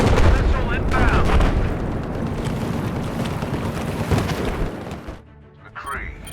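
A missile strike in the shooter Battlefield lands with heavy, rumbling blasts and cracks against windy noise, loud and close, then drops away into quieter game sound near the end.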